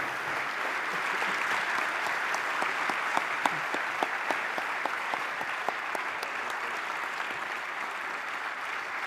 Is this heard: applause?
yes